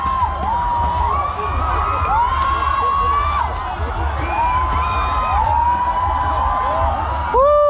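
Supporters crowd the riverbank at an annual boat race in Salavan, Laos, whooping and cheering in a constant loud roar with shrill rising shouts, while an announcer talks over the din.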